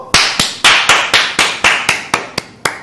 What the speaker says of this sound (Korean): 일동 박수!